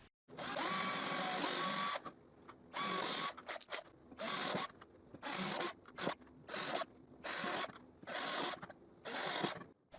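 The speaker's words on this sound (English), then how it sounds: "Now I can drill in the marks I made in the edge of the shelf." A power drill bores holes into the edge of a wooden pallet shelf in repeated bursts, a loud high whine about a second long each, separated by short pauses, close by.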